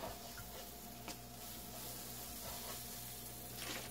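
Butter sizzling faintly in a pan while keto pancakes are cooked, a soft continuous crackle and hiss over low background hum, with no voices.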